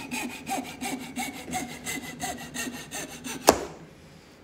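Hand saw rhythmically cutting wood while shaping a wood float handle, steady back-and-forth strokes close by, ending in a sharp snap as the offcut breaks away, then quiet.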